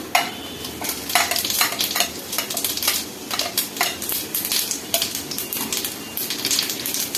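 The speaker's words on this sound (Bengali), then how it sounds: "আমার এই সেদ্ধ করা আলু আর গাজর আমি এই গরম তেলে দিয়ে দেব। তার আগে একটু প্রথমে গোটা জিরে দিয়ে দিলাম।" Boiled potatoes and carrots hit hot oil with whole cumin seeds, crackling and sizzling steadily while a utensil stirs and scrapes the pan with quick clinking taps, close and fairly loud with no talking.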